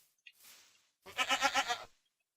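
A goat bleats once in the video game Minecraft, a short wavering cry close and clear after a faint soft noise, with nothing else around it.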